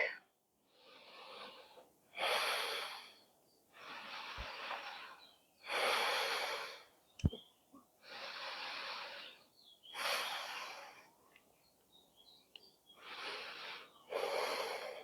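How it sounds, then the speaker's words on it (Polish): Slow, calm breaths close to the microphone, alternating inhale and exhale in a steady rhythm with quiet pauses between, plus a couple of small clicks. "spokojny wdech i wydech."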